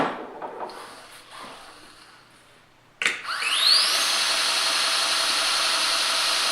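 A belt grinder-sander spins up after a click, its whine rising quickly and then settling into a loud, steady, hissing drone that continues unbroken, with quieter handling noises beforehand.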